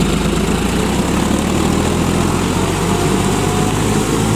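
A John Deere 5310 four-wheel-drive tractor with a 2.9-litre John Deere 3029 diesel engine runs steadily while tilling a field, a loud continuous drone with no pauses.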